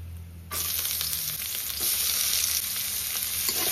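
Chopped onions frying in oil, turning golden brown: a loud, dense sizzle that bursts in suddenly after a quieter start and then holds steady and close, with faint stirring scrapes.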